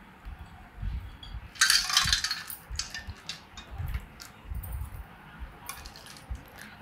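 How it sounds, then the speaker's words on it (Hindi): A cup of boondi tipped into spicy, chilled golgappa water, giving a brief burst of wet squishing and light clinking near the middle, then softer stirring and scraping sounds up close. "अब हम इसमें डालेंगे 1 कप बूंदी।"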